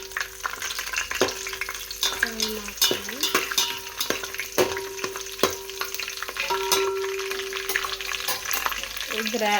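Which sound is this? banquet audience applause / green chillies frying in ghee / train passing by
green chillies frying in ghee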